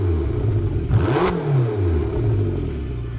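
A 2021 McLaren GT revs through its sport exhaust, a loud, close snarling engine that swells, dips and climbs again in a steady rising and falling pitch.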